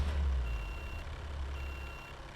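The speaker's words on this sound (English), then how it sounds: "Then I wonder if I can just nudge it in with the truck." Reversing beeps from a truck backing up to nudge a car in Car Dealer Simulator, a steady repeating electronic tone over a low engine rumble throughout.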